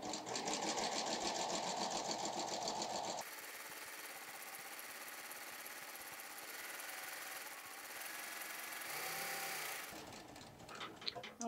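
A sewing machine stitches a flatlock seam with a lace applicator foot, running in loud steady bursts with a brief pause between them, close and without talk.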